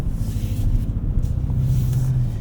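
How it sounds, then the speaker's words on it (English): A 2024 Toyota Tacoma TRD Pro engine at low speed while driving, giving a steady low rumble with a slight rising drone near the end, heard from inside the cabin with no talking. "show you guys how the engine reacts at lower speeds here"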